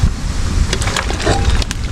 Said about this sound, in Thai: ได้ยินแต่เสียงลมเลย